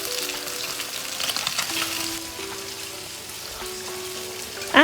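Boerewors sausages brown in a pan for a spicy Zambian stew, giving a steady crackling sizzle with scattered pops and a faint tonal hum, ending in a short sharp clatter.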